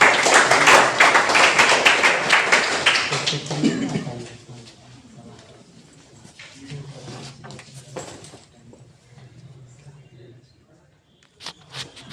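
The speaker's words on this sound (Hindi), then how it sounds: "आप सबों से अनुरोध होगा कि एक बार तालियों से सर का स्वागत करें" An audience at a college discussion event applauds to welcome a speaker, a few seconds of dense clapping that fades out, then quieter room sounds and a voice speaking.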